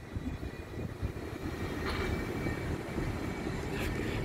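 A Northern train passes through Doncaster station with a steady, fairly loud low rumble that persists throughout, with wind noise mixed in and no talking.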